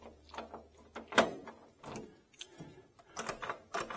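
A series of sharp mechanical clicks and clunks, a key turning in a 1969 Chevrolet Chevelle SS 396 door lock and the lock snapping, repeated several times close by in a quiet space.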